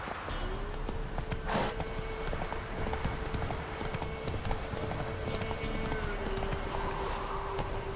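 Horse hooves clip-clop at a steady trot in the Witcher 3 video game, moderately close under a quiet ambient bed, with a brief whinny-like tone and no talking.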